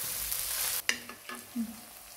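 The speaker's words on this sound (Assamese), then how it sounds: "পিঁয়াজ আৰু ৰচুনখিনি মই অকণমান ৰঙচুৱা অহাৰ বাবে ভাজিব লাগিব।" Onion and garlic frying in a pan for chilli chicken make a steady hissing sizzle that cuts off partway through. A few soft clinks and scrapes of a spoon on the pan follow, close by and fairly quiet.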